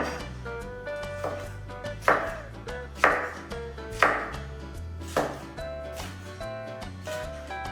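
A knife chops cabbage on a cutting board in a steady series of sharp thuds, with a few heavier strikes standing out. The chopping is close and clear, with a musical backing underneath.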